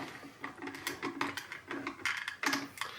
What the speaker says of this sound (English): So let's clamp it up.